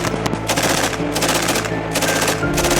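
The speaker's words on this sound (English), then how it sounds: "Every round fired you hear is me shooting." A 249 belt-fed machine gun fires full-auto bursts at an outdoor shooting range, loud and close, with rapid rattling rounds in several bursts separated by brief pauses.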